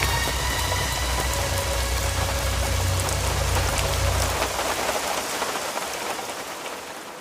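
Heavy rain falls steadily and loudly outdoors, a dense even hiss that eases slightly toward the end, with no talking.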